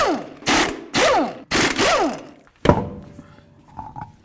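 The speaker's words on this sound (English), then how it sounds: "19 millimeter, remove your lug nuts." Four quick mechanical ratcheting bursts from a 19 mm ratchet removing lug nuts on a 2008-16 Chrysler Town & Country, in steady rhythm, each a harsh clicking whir, followed by a sharp metallic clunk and faint trailing rattles.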